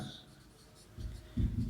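Chalk or marker writing cross-section dimensions on a board during an engineering lecture on buckling: quiet, close scratchy strokes in short bursts, growing louder toward the end.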